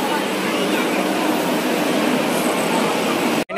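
A train at Raipur railway station, heard as a steady, loud broadband rumble and hiss that fills the space evenly, cutting off abruptly at the end.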